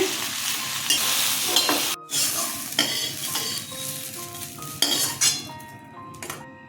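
Okra (bhendi) frying in a pan, with a steady sizzle broken by metal spatula stirring, scraping and clinks against the pan. The sounds are close and continuous, with a brief dropout near the two-second mark.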